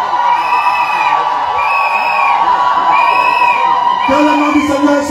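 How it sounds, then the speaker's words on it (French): A church congregation cheers and shouts for joy at a golden jubilee celebration, a loud, sustained wall of crowd voices with whoops and cries rising and falling over organ-like tones. "Est-ce qu'on peut pousser encore des cris de joie?"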